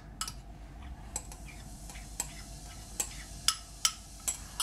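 Pork mince sizzles softly in rapeseed oil while a utensil taps and scrapes the pan now and then, giving light clicks over a low, even hiss.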